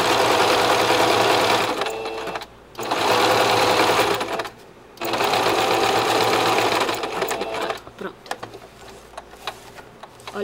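Sewing machine stitching a zigzag over an appliqué patch on a cloth diaper: loud, fast mechanical whirring in three sustained runs separated by brief pauses, close up.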